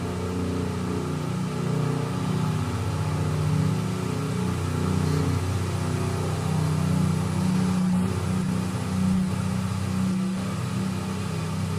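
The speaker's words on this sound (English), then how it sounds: "there's a truck there." A truck rolls past on a road, a steady, loud low engine rumble with broad road noise that holds for the whole stretch without any voices.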